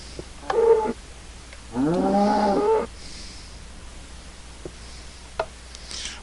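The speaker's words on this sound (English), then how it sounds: "And where in tarnation is that cow?" Cow in the game Minecraft, two low moos, a short one followed by a longer drawn-out one, clear against quiet game ambience.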